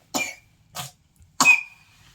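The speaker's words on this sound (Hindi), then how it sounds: "इसको बहुत ज़्यादा खांसी आ रही, बहुत ज़्यादा।" A child coughs three times in quick succession, short dry bursts close by, the last one longest and trailing into a faint wheeze.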